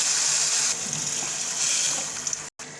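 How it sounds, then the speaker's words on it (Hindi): Water poured into semolina halwa cooking in ghee in a pan, a steady close gushing and sizzling rush for almost three seconds, ending with a brief silent gap. "1 कप सूजी का हलवा है तो हम 2 कप पानी का डालेंगे।"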